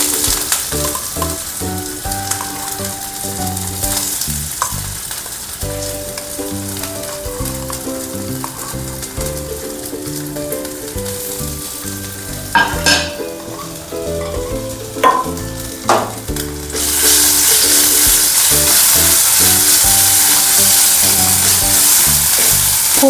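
Crushed ginger fries in hot oil in a pan for a cucumber shukto, a loud continuous sizzle close by with intermittent stirring clinks, swelling to a stronger hiss near the end.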